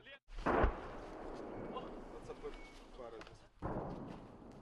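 Artillery fire from an M46 gun battery near Soledar: a loud, close blast at the start, then rumbling and crackling decay, and a second heavy report near the end, with someone speaking in between.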